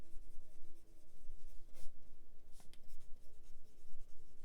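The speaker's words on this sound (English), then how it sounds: "I think I'm going to write that down right now." A pen or pencil scratches across paper as something is written down by hand, with close, uneven strokes and occasional sharper scrapes and no talking.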